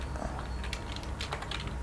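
Computer keyboard typing while entering an extension search in VS Code, a short quick run of soft key clicks, close but quiet over a steady background hiss.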